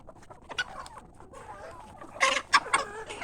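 Native chickens cluck at a farm with scattered soft calls that build into several louder, sharper clucks near the end, close by with no talking.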